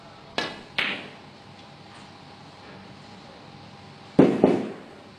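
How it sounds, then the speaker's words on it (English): Two sharp wooden knocks ring out, then a pause before another pair of louder, fuller bangs, made by a frustrated snooker player striking his cue in a quiet arena at the 2012 UK Championship. "Andrew Higginson banging his cue"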